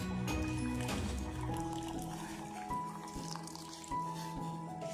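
Dissolved tamarind water is poured into a pot of tomato and onion soup, making faint splashing and dripping liquid sounds mixed with soft clinks of the container.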